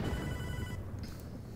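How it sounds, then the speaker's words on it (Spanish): A telephone rings in the video game Hotline Miami 2: Wrong Number, a steady electronic ringtone that sounds clearly for under a second and then stops. "vamos a contestar el teléfono primero"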